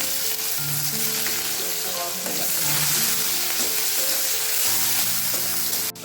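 Chopped onion frying in oil in a large wok, a steady loud sizzle running the whole time with occasional stirring scrapes and no voices.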